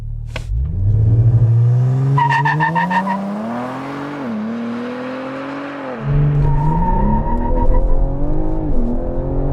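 A 500 hp Ford Explorer ST revs hard as it launches with launch control, climbing steadily in pitch, dropping briefly at the 1-2 gear change, then pulling strongly again, loud and close.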